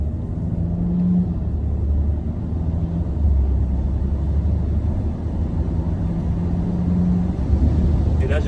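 A Fiat 500X Aircross accelerating hard in sport mode on a straight road, heard as a steady, loud engine and road rumble with a faint rising tone and no distinct gear changes.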